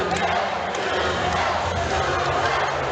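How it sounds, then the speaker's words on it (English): A crowd roars and chants at a live combat fight event, a loud, continuous wall of voices that stays full and close for the whole stretch. "The crowd chanting"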